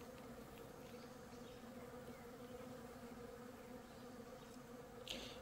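Asian hornets buzz around a beehive in an apiary, a faint, continuous, close insect hum with no voices.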